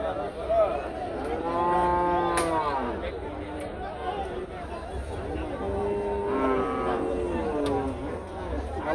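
Bullock cattle at the Chandimura cattle market in Cumilla low in several drawn-out moos, two main calls a few seconds apart, over a steady murmur of crowd chatter and background market noise.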